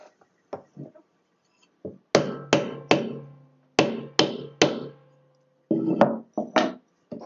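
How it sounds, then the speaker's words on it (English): High frets being hammered into a Stratocaster guitar neck during a refret, sharp close taps in small clusters with quiet gaps between, no talk. "I've got some high frets that I haven't bashed in well enough"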